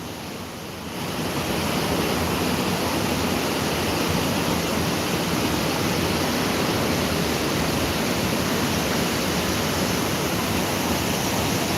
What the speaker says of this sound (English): And just how much water is going over there.